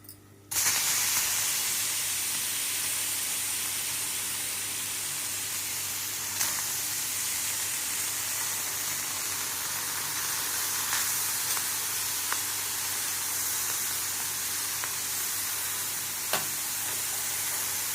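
A loud, steady hiss of thin bitter gourd slices roasting on a hot griddle continues throughout, broken by a few faint clicks and scrapes, close up with no talking.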